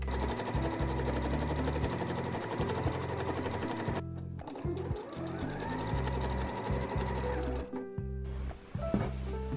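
A sewing machine stitches the seam of a quilted book sleeve at a half-inch allowance, running loud and steady for long stretches with short pauses and restarts between bursts.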